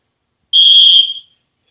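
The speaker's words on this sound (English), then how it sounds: "That was my whistle." A coach's whistle on a basketball court sounds one sharp, shrill blast of under a second, loud and close, fading quickly against silence.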